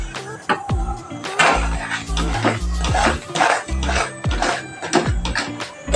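A spoon clatters against a metal pot while two cups of salted flour are stirred into milk for modak dough, giving repeated close, loud scraping and knocking in an uneven rhythm.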